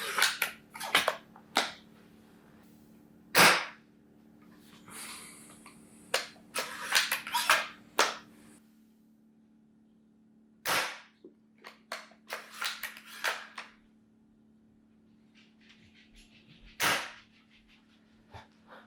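A Novritsch SSG24 airsoft sniper rifle firing through a chronograph, a series of sharp, close snapping shots at irregular intervals with quieter clicks and handling between them.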